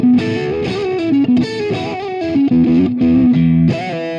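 An electric guitar played through a Boss DS-1 distortion pedal rings out with loud, saturated, sustained notes and short melodic phrases, heard alone.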